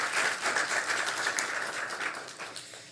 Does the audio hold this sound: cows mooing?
no